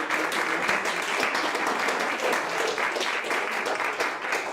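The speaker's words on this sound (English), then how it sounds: "Can we give a round of applause to our panelists?" A forum audience at an offshore wind community equity event gives panelists a round of applause, even continuous clapping from many people throughout, no speech.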